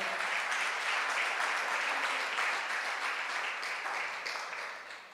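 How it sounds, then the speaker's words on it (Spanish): A church congregation at a Spanish-language Sunday morning service breaks into strong, sustained applause, a dense, even roar of many clapping hands that tapers slightly at the end. "Denle un fuerte aplauso al Señor."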